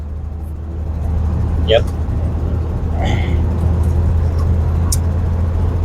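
A 1984 Ford F150 pickup driving down the road with its engine lugging in a steady low drone inside the cab, while occasional voices talk over it.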